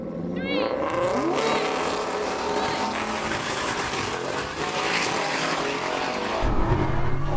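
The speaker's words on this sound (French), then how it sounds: "l'Audi a fait un bon départ" An Audi launches hard off the line in a drag race, with a loud, sustained engine roar and dense mechanical noise that keeps building as the car accelerates, heard close and continuous.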